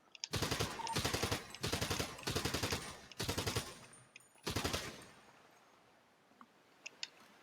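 Automatic gunfire in a roleplay video game: four or five sustained, loud bursts of rapid shots laying down covering fire, then a short final burst and a few scattered clicks, with no voices.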